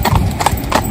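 Hooves of a big horse driven alongside a little pony clip-clop in a steady close rhythm on a hard surface, loud and clear with no talk over them.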